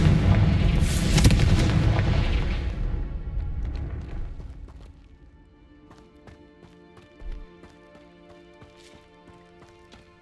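A Confringo blasting spell explodes in the Hogwarts Legacy video game, a loud booming burst over the first few seconds that fades into a quieter ringing tail with a faint thud near the end.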